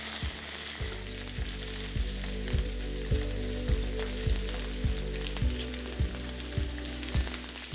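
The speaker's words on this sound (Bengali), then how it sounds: "এবার আমি এটাকে গরম হতে দেবো ততক্ষণ আমি এখানে পনিরটা নিয়ে আসছি আর পনিরটা আমি এখানে ডাইরেক্টলি দিয়েই দিচ্ছি" Paneer cubes fry in hot oil in a pan for chana dal pulao, giving a steady, close sizzle with regular soft clicks and scrapes running through it, no voices present.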